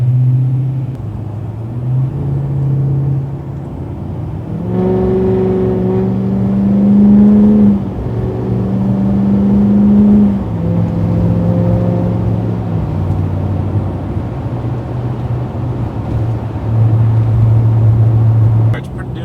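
A 2020 GMC pickup's L5P Duramax diesel engine idles, then revs and accelerates with rising and falling pitch before settling back to a loud, steady rumble.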